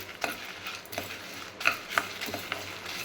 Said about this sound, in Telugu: ఇవన్నీ మంచి అరోమా వచ్చేదాకా ఫ్రై చేయాలి